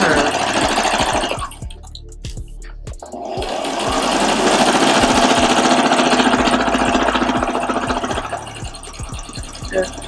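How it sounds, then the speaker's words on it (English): Sewing machine stitching face mask fabric, with back stitching around a curve, runs in fast rapid bursts close by, pausing briefly near the start before a long continuous run. "back stitching a bit, and sewing all the way around this curve"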